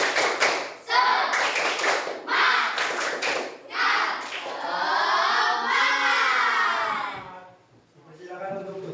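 A classroom group doing a rhythmic spirit clap chant, bursts of patterned clapping in uneven groups mixed with children's chanting voices, loud and close, fading near the end.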